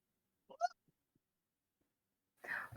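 A single short, sharp sneeze bursts out in a quiet room, followed by a few tiny clicks and then the start of a breathy noise at the end.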